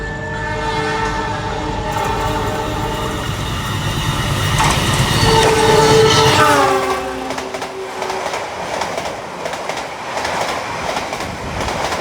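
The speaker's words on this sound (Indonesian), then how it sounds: "Jalur 3 dari arah barat berjalan langsung kereta api Argo Anggrek." A train horn blares with sustained harmonic tones, then the Argo Anggrek express train rumbles steadily through an Indonesian station without stopping, loud and close, with no talking.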